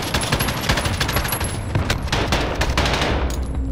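A dense, nonstop barrage of automatic gunfire from Call of Duty Modern Warfare, with rapid overlapping shots and loud cracks packed tightly together for the whole stretch, close and heavy.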